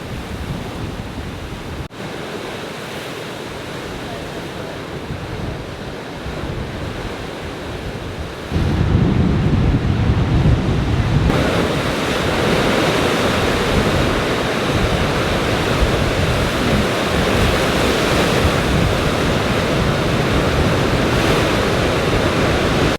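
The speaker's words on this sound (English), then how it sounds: "an ancient cave in which Atlantic waves crash into." Big Atlantic waves crash and roar into Hell's Mouth, an ancient coastal sea cave, as a continuous loud surf rumble mixed with wind buffeting the microphone, swelling noticeably after the first third.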